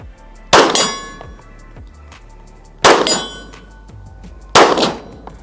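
Three loud metallic clangs ring out at steady intervals as pistol rounds from a Springfield Armory Echelon strike a steel target. Each impact is sharp, then fades into a short ringing tail under a low background hum.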